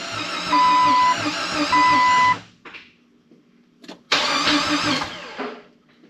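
A Jeep XJ engine cranks in a rapid rhythmic churn, briefly catches, falls quiet, then cranks loudly again, close by.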